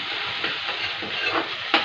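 Potatoes and tomato frying together in a pan for a dry spiced aloo sabzi, a dense, loud, continuous sizzle with a few stirring scrapes and a sharper clatter near the end.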